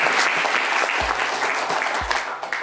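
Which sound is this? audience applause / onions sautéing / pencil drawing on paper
audience applause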